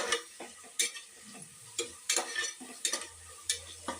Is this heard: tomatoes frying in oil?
yes